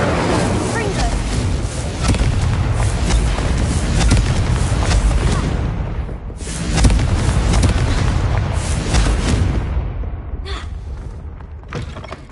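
Confringo blasting spell from the game Hogwarts Legacy, heard as a loud, dense roar of booming blasts that fills most of the stretch, easing briefly midway before surging again and tapering off near the end.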